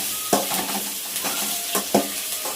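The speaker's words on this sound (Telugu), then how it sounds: "ఇలా మెల్లగా ఫ్రై చేసుకోవాలండి, అన్ని కలిసేటట్టు కలుపుకోవాలి." Capsicum being fried and stirred in a pan for gobi manchurian, a steady close sizzle broken by two sharp spatula scrapes and clinks, with no voices.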